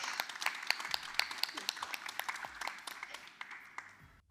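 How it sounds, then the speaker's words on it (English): A small conference audience at a library association's annual general meeting claps for an honorary member, a thin, uneven patter of hands with distinct individual claps, fairly quiet and fading toward the end. "give a big applause to our honorary member"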